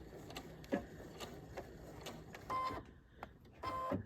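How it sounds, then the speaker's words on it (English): A sewing machine stitches in place on striped fabric while mitering a quilt corner, giving short bursts of fast mechanical whirring with brief pauses between, close and fairly quiet. "And I'm going to stitch in place."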